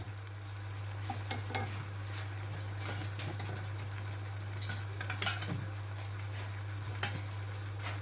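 A utensil stirs bottle gourd and cooked sardines in a pan, scraping and clinking in irregular strokes over a soft sizzle and a steady low hum, close and moderately quiet.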